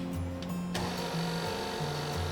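An electric pasta roller machine for fresh pasta dough switched on, giving a steady motor hum with a whirring, cyclic drone, close and continuous, with no talking.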